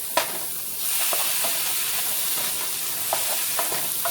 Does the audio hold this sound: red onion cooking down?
yes